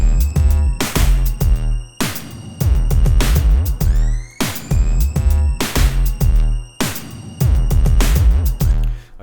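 A punchy drum kit played through a Logic Pro X tape delay, its loud kick, snare and cymbal hits repeating in steady bars with echoing tails smeared between the strikes.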